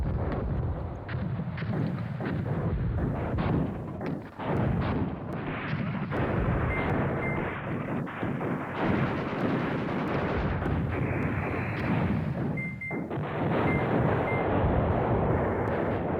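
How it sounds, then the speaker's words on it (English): Artillery fire in the wargame Command Ops 2, a steady run of rumbling blasts and crackling reports layered into a continuous, loud battlefield roar with no voices. "See the artillery in support there?"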